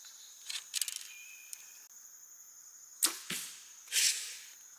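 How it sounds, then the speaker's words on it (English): Arrows strike in a video game in a few sharp, crisp impacts, two close together and one more a moment later, each a brief bright hit over quiet background hum and faint earlier clicks. "I think I hit another arrow."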